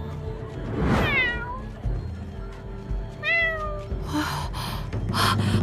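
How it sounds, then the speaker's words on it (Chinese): A small kitten meows in an animated fantasy series, several high, rising and falling mewing cries, close and fairly loud, with brief soft voices and background sound between them. "这只小奶猫长得可爱，我要了"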